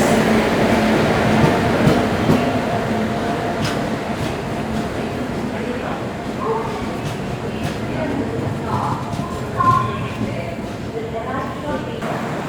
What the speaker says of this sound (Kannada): ಸೊ ಫೈನಲಿ ನಮ್ಮ ಟ್ರೈನ್ ರೀಚ್ ಆಯಿತು.